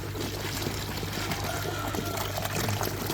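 A 3-inch airlift pump with a 2-inch outlet pushing out a strong flow of water, a continuous gushing, splashing pour that stays steady and close for a few seconds without speech.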